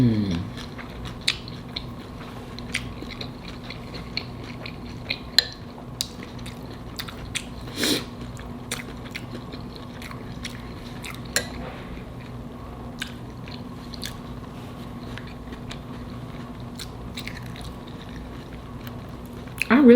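Someone chews shrimp tacos close to the microphone, with faint soft crunches and small smacking ticks scattered over a steady low background hum.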